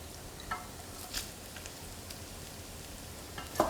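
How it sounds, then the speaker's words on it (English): Vinegar reducing in hot rendered bacon fat in a pan gives a steady low sizzle and crackle, with a few brighter pops scattered through and no voices. "now that the vinegar is reducing, now we're at a point where this vinegar will be able to hold on to this bacon fat"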